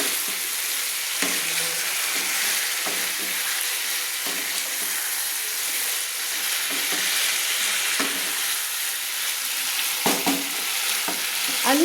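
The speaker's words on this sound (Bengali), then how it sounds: "এবার আমি একটু খুন্তি দিয়ে নাড়ছি।" A spatula stirs potatoes, drumsticks, vegetables and spices being sautéed for a thin rohu fish curry, with a continuous bright sizzle and repeated scraping strokes against the pan, close and without talk.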